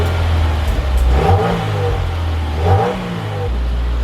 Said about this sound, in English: The stock exhaust for the WRX.